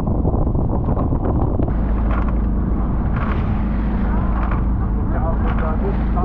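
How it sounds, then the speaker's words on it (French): Strong wind buffets a sailboat at sea as the water rises, roaring steadily over the microphone with a low hull and water rumble beneath, and a person speaks over it. "Forcément, dès que le vent se lève, la mer se lève"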